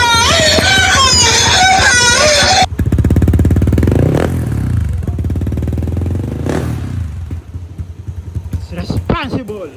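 A 200cc motorcycle with a stock ECU and check-engine fault cranks and fires, settling into a loud, close, steady idle with a few blips of revving; voices talk over the start.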